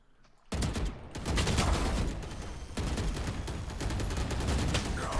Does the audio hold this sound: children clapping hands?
no